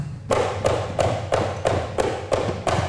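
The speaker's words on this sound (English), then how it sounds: "if I just put one hand on the drum and I mute it" Seven muted hand drum strikes at an even pace, short dull thuds with the ring cut off quickly.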